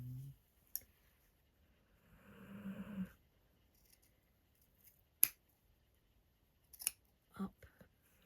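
Scissors cut a hair weft for a DIY hair topper, with a few faint, close snips and clicks scattered between quiet gaps.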